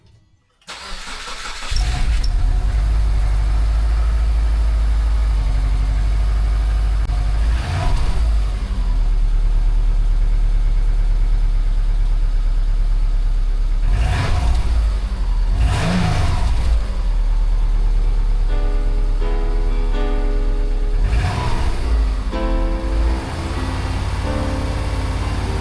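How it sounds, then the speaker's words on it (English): A Subaru Forester engine with a new muffler idles steadily with a deep exhaust rumble, revved briefly three or four times before settling back to a low idle. "The exhaust actually sounds way better than I thought it was going to."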